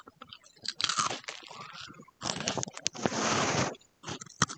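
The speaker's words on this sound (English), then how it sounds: "But let's bite let you hear." Crunchy Japanese sweet potato snack being bitten and chewed close to the microphone, sharp crisp crunches in several bursts separated by short pauses, with a longer grinding chew near the end.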